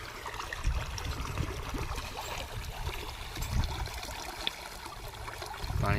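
Water runs steadily into a full farm storage tank, a continuous trickling, splashing rush heard close up with no voices.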